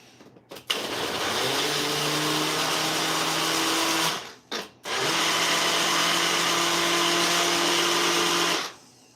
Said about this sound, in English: I got a little blender here. Might make a little bit of noise, but I'm going to blend it back over here.